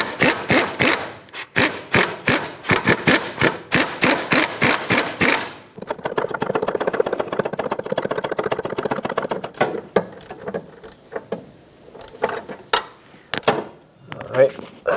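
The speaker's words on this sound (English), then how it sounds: "let's tighten up this top one, which I will attempt with the air gun" A pneumatic air impact gun tightens the nut on a rear sway bar link of a Nissan Pathfinder. Fast, close, loud bursts of hammering rattle in the first half, then a denser stretch of buzzing impacts, with a few scattered knocks after.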